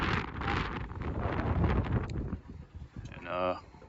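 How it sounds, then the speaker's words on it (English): Gusty wind on a boat in shallow water buffets the microphone with a rough roar that rises and falls, and a short burst of speech follows near the end. "but it's windy out"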